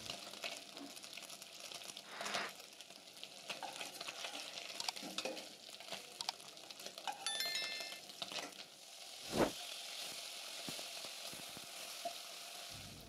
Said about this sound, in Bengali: তাই মাছগুলোকে আমি সুন্দর করে এখন ভেজে নিচ্ছি।